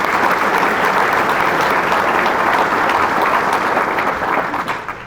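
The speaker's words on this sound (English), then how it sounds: "We'll give a round of applause." An audience claps in a dense, steady round of applause at a school district superintendent's speech, sustained for several seconds before starting to fade at the end.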